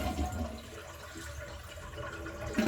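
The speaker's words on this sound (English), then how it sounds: "We're going to flush the toilet." A household toilet flushing during a bidet installation, a faint, steady rush of water refilling and draining, quiet and continuous without talk.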